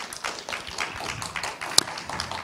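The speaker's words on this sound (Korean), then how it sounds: "우리 두 분 일어나셔서 인사하실 때 크게 박수로 좀 맞아주시면 감사하겠습니다" Seminar audience giving a light round of applause to welcome two speakers, quiet and scattered claps from a small group with one sharper clap standing out.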